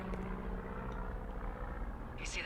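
Firefighting plane from the video game Firewatch passing overhead while dropping water on a forest fire: a steady, broad engine drone and rumble held throughout at moderate level, with a brief brighter hiss near the end.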